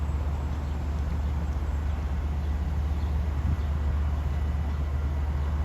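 A Long Island Rail Road train running New York to Babylon approaches as a steady, loud low rumble and rolling roar, with wind noise over it and no clear horn or passing break.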